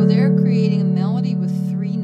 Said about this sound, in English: The chords on the bass sound like this.